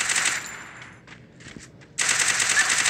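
A UMP submachine gun fires in the Free Fire video game. A rapid burst fades out, there is a short lull with scattered faint shots, and then a second loud burst of automatic fire starts abruptly.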